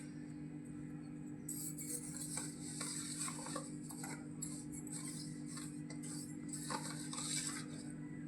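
About 300 grams of sugar is stirred into a mixture for a no-cook toast ice cream and kulfi, with a gritty scraping and light clinking of a spoon against the bowl over a steady low hum.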